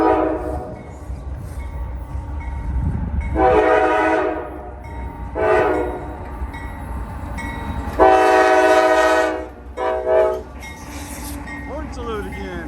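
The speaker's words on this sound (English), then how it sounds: "Got Norfolk Southern train coming through right next to the memorial." A Norfolk Southern freight train rolls past beside a memorial, sounding its horn in several long, loud blasts over a steady rumble of cars, with a person talking nearby.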